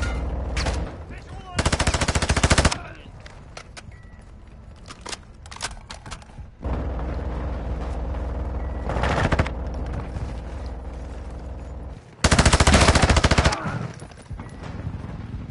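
Machine gun fire rattles in several long, loud bursts separated by quieter stretches, with scattered shorter shots and a steady background rumble between them.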